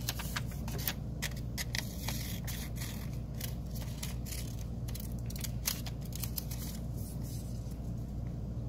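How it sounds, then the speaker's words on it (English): Scissors cut paper pictures into small pieces, a run of faint crisp snips and paper rustles over a steady low hum, close but quiet with no talking. "So you're going to cut each picture out into individual little pieces."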